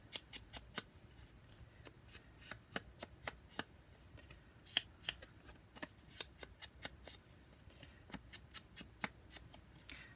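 A paper edge for a junk journal is trimmed with scissors, making a quick, regular run of crisp snips, quiet and close, with no talking.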